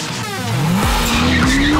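Loud tire squeal from a 2008 Corvette Z06 braking hard, a continuous rising screech over engine noise lasting under two seconds.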